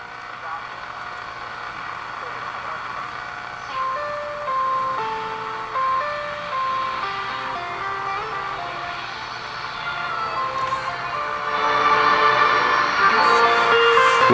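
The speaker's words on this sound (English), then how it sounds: "I wonder how long it's been since this radio's played." An old Sonotone Model B 131 tube radio plays a tinny melody through a crackly, hissy speaker, with a steady low hum beneath it and the sound swelling louder toward the end.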